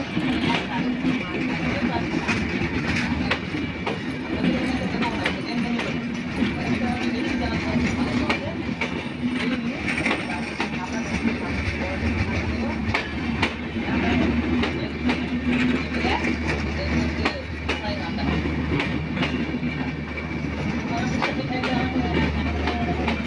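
Madhumati Express passenger train gradually gaining speed, a continuous loud rumble with rhythmic clickety-clack of wheels over rail joints, heard from on board with a person talking over it.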